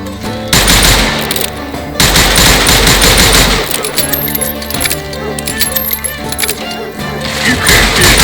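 Repeated gunfire from Call of Juarez Gunslinger, a Wild West shooter, with loud bursts and rapid shots over a busy game soundtrack, some metallic clinks scattered between the volleys.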